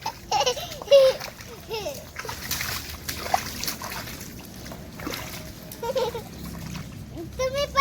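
A child playing in a rainwater puddle during heavy rain, with scattered splashes and trickling water under lively chatter and laughter from a child and others nearby.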